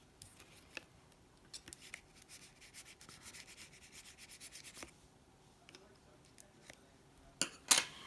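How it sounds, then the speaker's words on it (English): Close, soft rubbing strokes come from burnishing a paper flap on a handmade pop-up box card, a quick series of light scrapes in the middle, faint and alone, followed by a few scattered clicks and a sharper rustle near the end. "Let's give that a little burnish if we can get in there."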